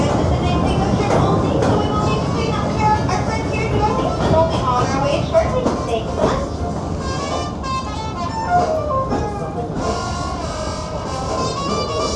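A Disneyland Railroad train at an amusement park rumbles steadily along with continuous mechanical noise and clatter, while a loud voice talks over it throughout.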